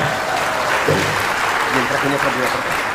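Applause for a preacher at a religious lecture: dense, continuous clapping from a crowd, loud and even throughout, with speech and voices running over it.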